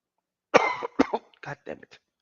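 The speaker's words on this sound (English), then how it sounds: "I don't mean to cough on you guys." A man coughs several times in a car, a sharp first cough followed by a string of shorter hacking bursts, close and fairly loud against an otherwise quiet cabin.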